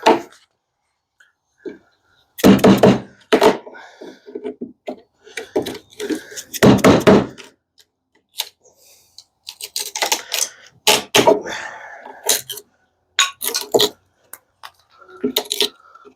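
An AEBL steel prybar levering apart pine boards held with screws, giving bursts of sharp cracks, creaks and clicks separated by pauses, with some quiet handling noise between efforts.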